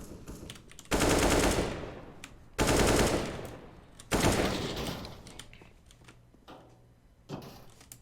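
Loud bursts of automatic gunfire from a tactical shooter game, three long sustained volleys followed by a shorter burst, with quieter clicks and keyboard taps between them and no speech.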